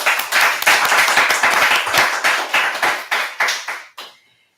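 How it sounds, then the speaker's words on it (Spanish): Applause after a doctoral seminar session on education, a small group clapping in rhythmic bursts, fairly loud and near, then stopping abruptly into silence. "Así que muchas gracias. Un aplauso."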